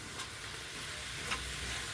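Minced meat with onion and ground spices sizzling in a pan while being stirred, a steady close crackle with light scraping, no talk.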